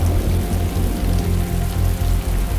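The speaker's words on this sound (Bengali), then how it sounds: "ইতিমধ্যে পুরো দমে বৃষ্টি পড়তে শুরু করেছে।" Heavy rain pouring down, a loud dense continuous hiss with a low rumbling wash throughout, no voices.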